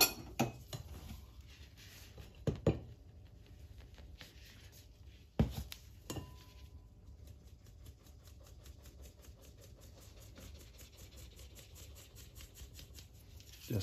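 Dry ingredients being stirred in a bowl: flour with yeast, nutmeg and a pinch of salt. Soft, steady scraping and brushing with a few sharper clicks of the utensil against the bowl, close and quiet, with a faint engine-like hum underneath.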